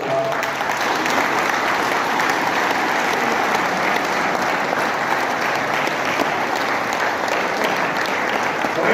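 Loud, steady crowd applause at a BJP political rally and gathering in Meham, a thick continuous wash of many hands clapping from start to finish.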